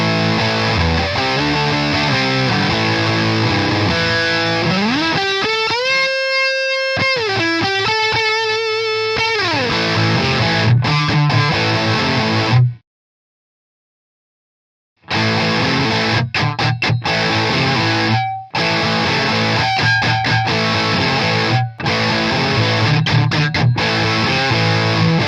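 An electric guitar plays through a Wampler Ratsbane distortion pedal with every knob turned up, including bass, giving loud, saturated chords and sliding riffs that stop in a short silent gap and then resume with heavy crunch.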